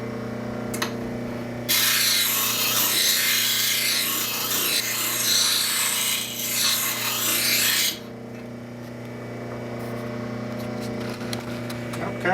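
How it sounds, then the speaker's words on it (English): A spokeshave blade, soft enough to file, is ground on a workshop grinder in a loud, steady rasping burst of about six seconds over a low motor hum, which continues faintly on either side. "I'm not sure why I'm grinding it instead of filing it"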